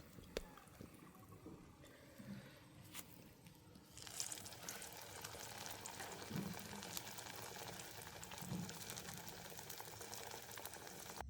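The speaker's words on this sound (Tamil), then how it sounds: "நாங்கள் இப்படியே ஒன்றொண்டா பொரிச்செடுப்போம்." Onion roti fries in shallow oil, starting as a quiet sizzle and then rising to a steady, louder crackling bubble with a few soft clinks.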